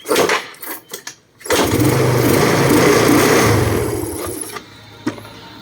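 A hard-starting small engine with a valve fault catches after a few short pulls, then runs loud and rough with the throttle held up for several seconds before dying down, ending with a single knock.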